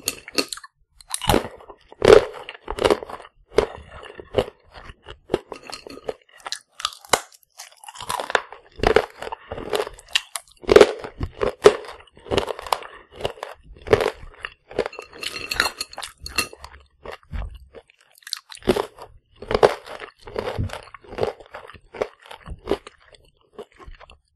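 Close, loud crunching as sweet, crisp food is bitten and chewed, in bursts with short pauses between mouthfuls.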